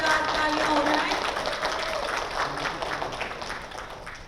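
An audience at a television show launch event claps in a dense, sustained round, with a speaker's voice partly over it.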